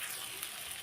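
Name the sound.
frying in a pan for cauliflower curry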